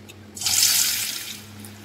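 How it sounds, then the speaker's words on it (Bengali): A bottle gourd kofta slipping into hot oil sets off a sudden bright hiss that swells, then slowly fades to a softer bubbling. "দেখো বন্ধুরা, আমাদের তেলটা গরম হয়ে গেছে। এবার আমরা এটা একে একে দিয়ে দেব।"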